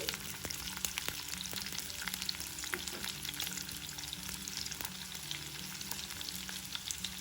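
Chopped radish and onions fry in a pan, giving a dense, even sizzle that carries on steadily. Repeated scrapes of a stirring spoon sit on top, and the whole sound is close and unbroken, with no voices.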